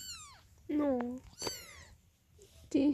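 A ten-day-old kitten cries in repeated high, wavering meows, close and fairly loud, with someone speaking softly between the calls.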